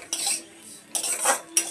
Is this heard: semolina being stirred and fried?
yes